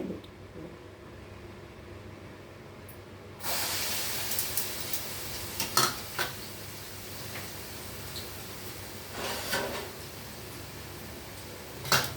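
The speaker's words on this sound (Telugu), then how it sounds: "నూనె కాగిన తర్వాత ఒక అర ఉల్లిపాయ ముక్కలు కోసానండి ఈ ఉల్లిపాయ ముక్కలు వేసుకోవాలి" Half an onion's worth of cut pieces dropped into hot oil in a pan, bursting into a broad steady hiss and sizzle that carries on with small crackles and pops, close and fairly loud with no talk over it.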